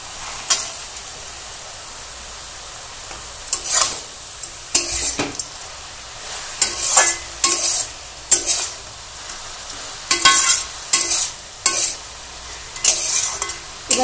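Bottle gourd greens with crushed lentil dumplings stir-fry in a pan for a Bengali vegetarian dish: a soft, steady sizzle runs throughout, broken by repeated sharp scrapes and clatters of stirring in short irregular bursts.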